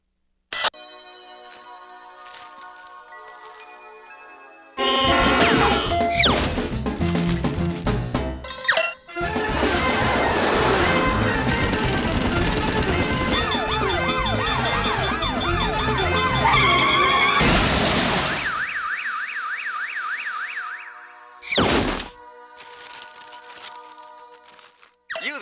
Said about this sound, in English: At home after a hard day's work, but can't escape the noise of the big city?